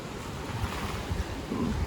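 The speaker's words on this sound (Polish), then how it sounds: "O, tu są większe fale." Steady rush of ocean surf off Mauritius with wind buffeting the microphone, a continuous wash of noise without distinct breaking waves.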